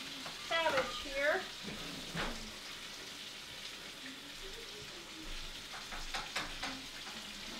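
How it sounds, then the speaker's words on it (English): Cabbage sizzles in a hot pan during a stir-fry while a utensil scrapes and stirs through it, giving a soft crackling hiss under a few sharper clinks and scrapes. "Let me stir my cabbage here."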